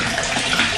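Bottled water pours steadily into a winemaking container being filled toward the 23-liter mark. It makes a close, continuous splashing gush with no break.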